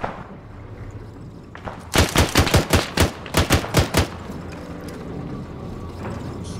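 Gunfire in the ARMA 3 military video game: a loud, tight volley of about a dozen sharp shots in two quick bursts, with ambient game noise before and after and no talk.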